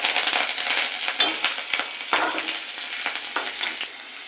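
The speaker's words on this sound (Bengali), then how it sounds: "এই তেলে দিয়ে দেবো কালো জিরে ফোড়ন, আর দেবো চেরা কাঁচা লঙ্কা" Nigella seeds and slit green chillies tempering in hot oil give a loud, dense crackling sizzle with sharp pops scattered throughout, close up and alone.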